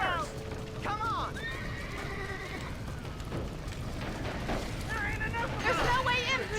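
Horses neigh and whinny in panic inside a burning barn in the Red Dead Redemption video game, several shrill calls over crackling background noise, with game voices talking between them.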